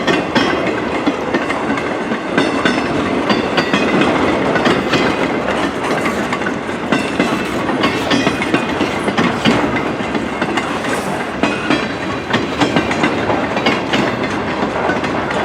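CN freight train rolling eastbound through snow, a loud, steady roar of passing railcars with continuous clickety-clack from the wheels, close and unbroken for the whole stretch, no talking.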